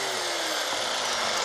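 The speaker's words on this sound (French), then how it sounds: "ils doivent apprendre à utiliser des outils de pro, comme cette scie sauteuse que Nolwenn tient en main pour la première fois" A jigsaw cuts through raw pallet wood, a continuous buzzing, rasping whine with a steady pitch that stays loud and close for the whole short stretch.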